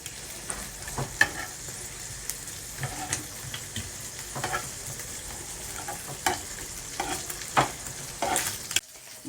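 Beef tongue frying in a pan, a steady close sizzle with crackles and occasional stirring scrapes, continuous throughout with no talk.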